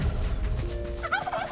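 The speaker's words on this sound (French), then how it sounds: "Mais qu'est-ce que c'est que cette dinde?" A turkey in the survival game Soulmask gobbles twice in quick rattling bursts near the end, standing out clearly over a low background rumble.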